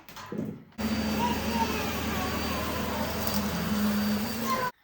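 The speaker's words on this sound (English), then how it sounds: "Are you ready to help Annie with some hoovering?" A household vacuum cleaner starts up and runs loudly and steadily at close range, a constant roaring whine while someone hoovers a home, with a brief child's sound just before it switches on.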